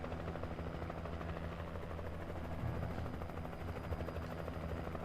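Helicopter in the video game Alan Wake, a dense, steady chopping rotor drone with low engine rumble filling the whole stretch, loud and unbroken, with no talking.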